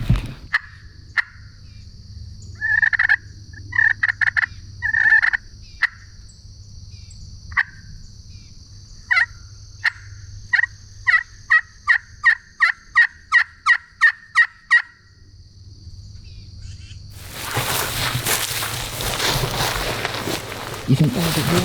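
Osceola wild turkeys gobble in a south Florida woodland, a string of short rattling calls, some quick and clipped, heard against a steady chorus of insects before a burst of rustling noise, with people talking at times.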